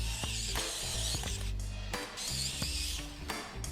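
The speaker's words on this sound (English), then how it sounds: "Drive in the screw first" A screwdriver drives a screw into the lower frame of an IXO 1:8 scale Lancia 037 model kit, with close, clicking ratchet turns in a rapid uneven rhythm.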